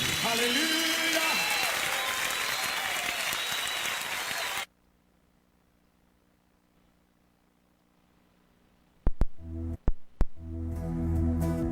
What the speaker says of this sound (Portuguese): Oh, aplaudimos a ti, amém.